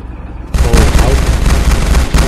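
Heavy gunfire in Unturned World War II PvP breaks out after a quiet half-second, loud and continuous with overlapping shots and booming reports for the rest of the moment.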